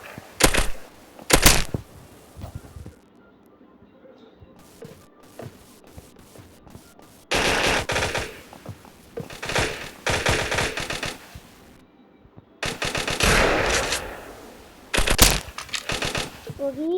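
Gunfire in the mobile shooter Free Fire, bursts of rapid crackling shots in clusters separated by quieter stretches, fairly close and sharp, with a person talking during the lulls.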